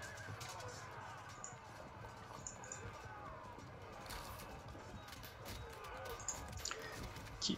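Horse neighs and whinnies ring out in a Field of Glory II multiplayer battle between Assyrians and Pontians, rising over a steady din of hooves and battle noise, with a louder burst near the end.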